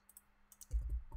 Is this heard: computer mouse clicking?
yes